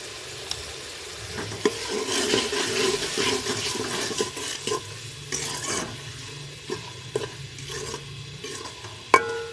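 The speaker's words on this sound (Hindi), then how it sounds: "इस मसाले को हल्का सा भून लेंगे" Masala with red chili and salt roasts in a pan. A soft, steady sizzle runs under irregular scraping clicks from stirring, with one sharper knock near the end.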